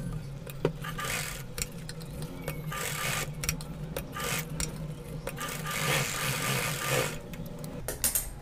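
Sewing machine stitching elastic onto a gharara, a steady whirring run of stitches with brief pauses and small clicks, close and fairly loud, with no talking.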